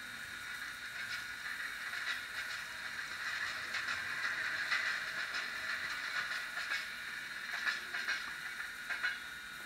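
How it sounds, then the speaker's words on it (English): A model train set plays a steady hiss and rumble of a passing train with faint rhythmic clicks, continuous and moderately distant throughout. "that's general noise of a passing train in the back"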